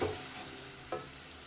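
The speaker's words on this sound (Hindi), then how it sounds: "फिर हम इसकी अच्छी सी भुनाई करेंगे।" Minced keema sautéing in a pan with tomatoes, a low steady sizzle broken by a couple of brief scraping stirs near the start and about a second in.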